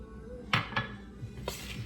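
Utensil scraping and clinking in a bowl as melted butter is mixed with the other ingredients for oatmeal mango cheese cupcakes, a few close, sharp knocks spaced irregularly over quiet kitchen background.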